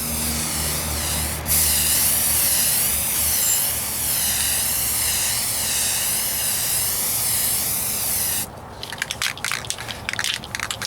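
Spray gun laying a light primer tack coat on the driver's side wheel arch of a 1998 Ford Ranger: a loud, steady hiss of atomizing spray, then a rough, broken rattle near the end.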